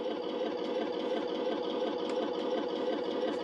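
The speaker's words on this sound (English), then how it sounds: "There's the sound of the machine gun." A Heng Long StuG III RC tank fires its electronic machine-gun sound effect, a steady rapid mechanical rattle from a small speaker, faint and unbroken, with no voices.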